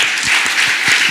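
An audience at an awards ceremony breaks into dense, sustained applause, a thick wash of many hands clapping at once, loud and steady throughout the short stretch.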